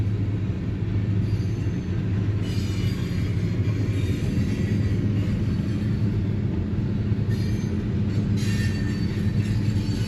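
A freight train rolls across the Blackhawk Bridge over the Mississippi, a steady low rumble of wagons and wheels with faint intermittent squeals, heard from nearby on a ferry in the rain, with no talk.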